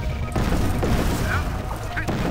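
A flak turret in C&C Tiberian Sun fires a dense, continuous barrage of loud blasts that fills the whole stretch, with a few sharp cracks cutting through.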